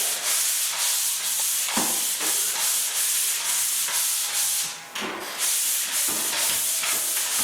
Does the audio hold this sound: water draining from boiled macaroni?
no